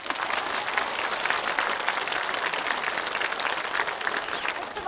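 Audience applause at a CCTV-4 variety broadcast, dense sustained clapping from a large crowd throughout, with a brief brighter burst near the end.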